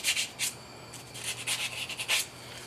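Rough edges on a piece of metal for a drill guide are rubbed and filed down in a workshop, giving a close series of short, gritty rasping strokes with no talking.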